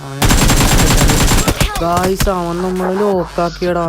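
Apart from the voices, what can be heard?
gunfire in the video game BGMI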